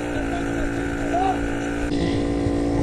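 A Solex moped's small engine runs with a continuous buzzing drone while riding outdoors, with wind noise and a shift in tone partway through; voices are heard over it.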